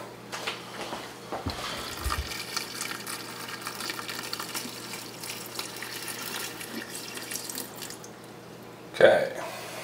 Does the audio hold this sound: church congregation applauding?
no